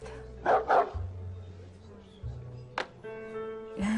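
A dog barks in a domestic scene, giving a couple of quick close yaps at the start and a single sharp bark later, over low room hum.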